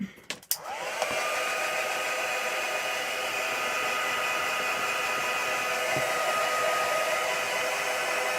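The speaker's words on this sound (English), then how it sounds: "Now let me get a blower on that." A blower drying a craft project starts with a click and then roars steadily as a loud, continuous hissing airflow that stays close and even until the end.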